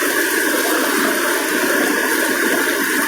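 Rushing flood water roars steadily and loudly as a swollen flow surges past, a broad continuous wash with no break across the whole stretch.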